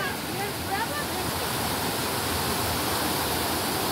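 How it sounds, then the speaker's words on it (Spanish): Steady rushing water from a small cascade on a river fills the scene with a constant broadband hiss, close by and unbroken. "Ay, miren la cascadita."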